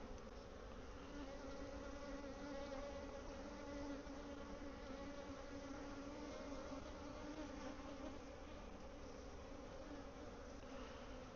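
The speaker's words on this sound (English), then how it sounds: "the bees are still on her" Honey bees buzz around a caged queen in a dense, continuous drone, many insects humming together close by without pause.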